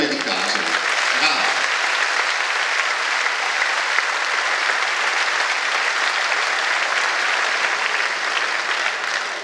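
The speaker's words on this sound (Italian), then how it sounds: "io rilancio chiedendovi ancora un grande applauso per le fanfare di Bergamo e di Casa" Sustained audience applause for the Bersaglieri brass bands at a national Bersaglieri rally, dense and steady clapping from a large crowd filling the whole span without a break.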